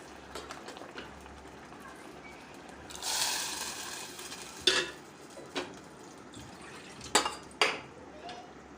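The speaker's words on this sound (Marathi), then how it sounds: "आता यामध्ये आपण टाकूया ही शिजलेली तुरीची डाळ थोडीशी हळद टाकायची आणि चवीनुसार मीठ टाकायचं छान मिक्स करून घ्यायचं" A spoon stirs cooked toor dal with turmeric and salt in a cooking pot, giving faint scraping and a few sharp metallic clinks against the pot over a quiet background.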